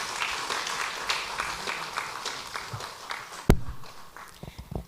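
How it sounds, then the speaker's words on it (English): A crowd claps in a dense patter of applause that thins out, with a sharp thump near the end as it fades. "Please, let's give them a round of applause."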